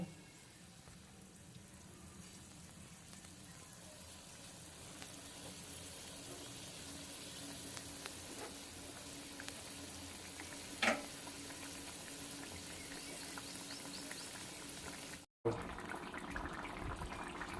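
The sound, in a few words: bata fish curry simmering and boiling in a pan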